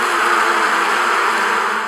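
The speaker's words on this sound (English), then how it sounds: "Those are bees." Bees buzzing around a tall tree outdoors, a steady, dense insect drone that holds evenly throughout, close and fairly loud with no other sounds on top.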